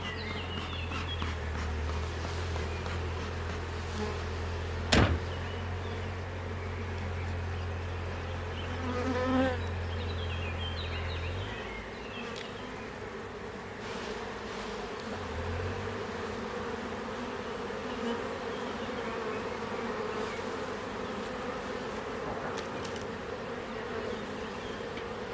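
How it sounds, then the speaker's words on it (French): Bees hum steadily from an opened, well-populated hive, a dense close buzz that continues throughout with occasional louder passes and faint knocks. "Et maintenant, j'ouvre la ruche."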